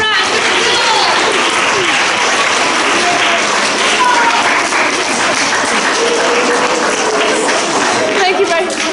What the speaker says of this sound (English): Let's give all of our stars a big round of applause.